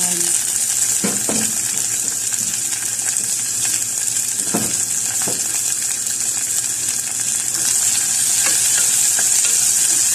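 Garlic and onion sauté in a hot pan for beef broccoli, giving a loud, constant frying hiss with a few scraping stirs near the start and middle.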